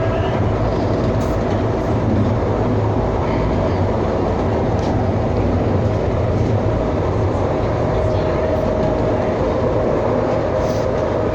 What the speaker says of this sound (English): this train's quick and convenient because there's two lines